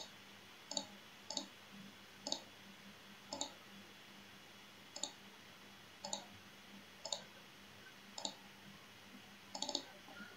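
Computer mouse clicks while digitizing a polygon in mapping software: about a dozen sharp, quiet clicks at irregular intervals, some in quick pairs, over a faint steady room hum.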